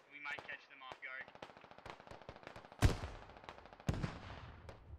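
Rapid bursts of automatic gunfire crackle through a tactical Squad firefight, a long rattling string of shots broken by two sharp, louder single blasts, with faint voices underneath.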